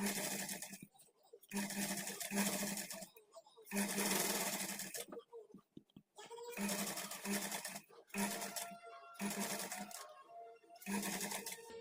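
A sewing machine stitches a hemming strip onto a blouse, running in repeated close bursts with short pauses between them while someone talks over the stitching.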